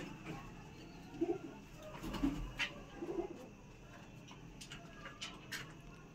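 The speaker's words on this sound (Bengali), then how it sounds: "ওর যে পায়রা আছে সেই পায়রাগুলো আমি দেখাই" Pigeons in a pigeon shelter coo softly several times, with low throaty calls spaced about a second apart over a quiet background.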